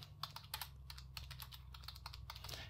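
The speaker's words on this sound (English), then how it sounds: "I'm going to open up Notepad here, and then we're going to type in," Rapid, uneven keystrokes tap on a computer keyboard while text is typed into Notepad, close and fairly quiet clicks over a low steady hum, with no talk.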